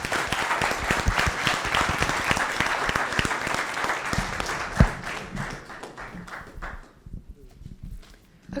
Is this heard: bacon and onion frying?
no